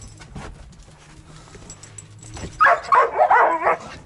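A dog lets out a quick burst of excited yips and barks near the end, after a few seconds of quiet shuffling.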